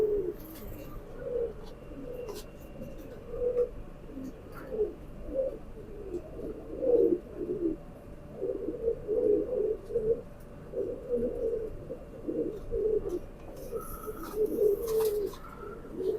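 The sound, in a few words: kamagar pigeon cooing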